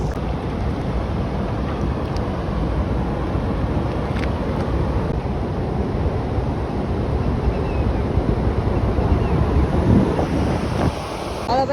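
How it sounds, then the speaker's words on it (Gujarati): Water rushing out through the open gates of a dam onto the river below, a loud, continuous roar with heavy low rumble and wind buffeting the microphone, unbroken for the whole stretch and with no talking. "ડેમના પાટિયા ખુલ્લા જ છે જોઈ લ્યો કેમ પાણી જાય છે"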